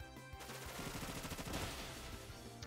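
Bullet Seed attack in Pokémon Brilliant Diamond, a rapid burst of quick popping hits in a fast rattling run, fairly faint and short.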